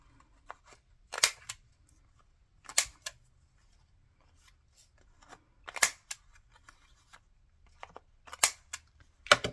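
Scissors snip around the corners of an index card, a handful of short, crisp cuts in small clusters separated by quiet pauses, close and fairly soft.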